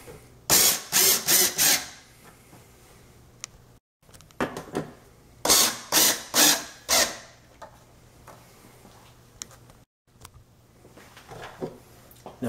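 Screws being driven while assembling an IKEA Micke drawer unit: two clusters of three or four short, loud mechanical bursts, likely a powered driver, separated by quieter handling noise and a few soft knocks.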